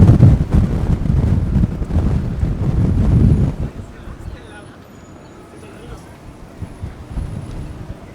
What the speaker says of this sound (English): it's so windy that it's actually blowing my camera around